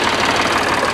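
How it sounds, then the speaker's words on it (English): A Ford tractor engine runs loud and close with a steady, rough, unbroken roar while preparing food plot ground. "Ford tractor."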